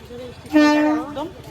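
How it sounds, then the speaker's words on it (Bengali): A train sounds a loud, sustained horn blast for about half a second beside a busy wholesale bag market in Kolkata, with crowd noise around it. "এই যে এই যে ট্রেন যাচ্ছে"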